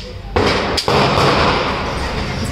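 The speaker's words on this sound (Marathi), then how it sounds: "खाली फटाके पण मुलं वाजवत आहेत" Children set off firecrackers downstairs during a Tulsi wedding celebration, a loud close crackling barrage with sharp bangs that keeps up without pause.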